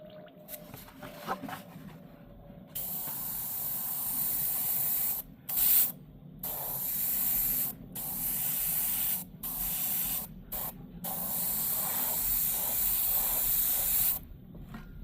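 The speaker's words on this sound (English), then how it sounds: "This is actually a very good airbrush as well." An airbrush sprays paint onto a 1/100 scale Gundam plastic model kit, a close hiss coming in repeated bursts of a second or two separated by short silent pauses.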